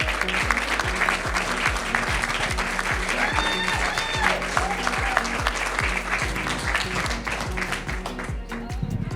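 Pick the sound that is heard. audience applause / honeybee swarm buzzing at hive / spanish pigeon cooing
audience applause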